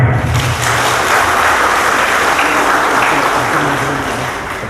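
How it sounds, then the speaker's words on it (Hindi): Loud, sustained applause from an audience at a Bahujan Mukti Party political convention, steady dense clapping that fills the room and slowly tapers toward the end. "जोरदार ताली बजाएं"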